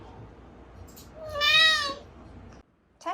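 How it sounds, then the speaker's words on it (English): A male cat gives one drawn-out, whiny meow that rises and falls, sounding like a complaint, loud and close against a quiet room, followed by a brief sound at the end. "he just sounds like he's always complaining or whining whenever he meows"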